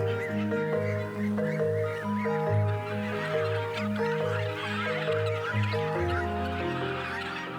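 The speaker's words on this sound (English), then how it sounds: "The chef wants to inspect the free-range Riegersburg geese himself." Free-range Riegersburg geese and old Styrian poultry breeds honk and cluck together at a farm, a steady overlapping chorus of fowl calls close by with no one talking.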